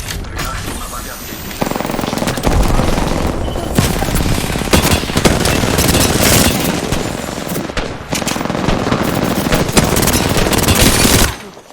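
Sustained automatic weapon fire in the battle royale game Apex Legends, loud, dense bursts of rapid shots running almost continuously with brief gaps, heavy and close throughout.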